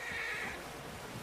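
A horse whinnies in Red Dead Redemption 2, a brief, faint high neigh at the start that fades into soft background noise.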